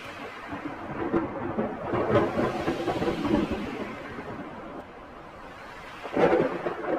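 Steady rain falls with rolling thunder through a Hindi children's tale about baby birds in a nest, a broad continuous wash that swells with a louder rumble near the end, no voices.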